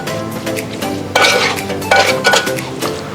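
Aviyal, a Kerala mixed vegetable curry, being stirred in a pot on the stove, with a spoon scraping and clinking against the metal in repeated bursts, under a faint steady sizzle, with no voices.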